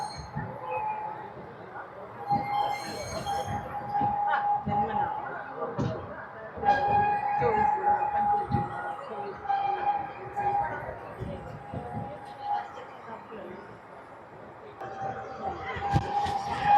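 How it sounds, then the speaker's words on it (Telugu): Kailasagiri toy train in Visakhapatnam, a small three-car train with a generator car, running at cruising speed: steady rolling rumble with a sustained horn-like tone near the start and middle, under crowd chatter and talk. "ఇదే అనుకుంటా మన టాయ్ ట్రైన్ ఒక క్రూజింగ్ స్పీడ్"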